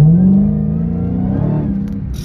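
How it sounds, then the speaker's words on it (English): A 2023 Dodge Hellcat's supercharged engine hums loud and close, a steady drone with a faint rising whine riding over it, briefly lifting in pitch before settling. "Got that supercharger, man. You heard that whine I was sold,"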